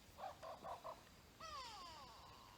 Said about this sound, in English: The go-away bird calling behind us.